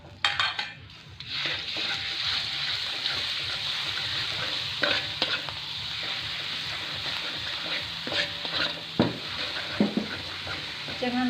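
Ground spice paste frying in hot oil while being stirred in a pan, a steady close sizzle with scraping and clinking of a utensil against the pan, occasional louder knocks, no talk.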